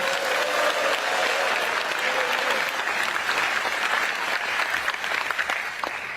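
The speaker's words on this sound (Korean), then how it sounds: "우리 이재명 대통령께 박수 한번 쳐드리면서 시작하면 어떨까요" An audience in a lecture hall claps together at a political talk, a dense and sustained round of applause that carries on steadily and loudly for several seconds.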